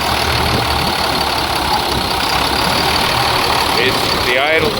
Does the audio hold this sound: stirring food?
no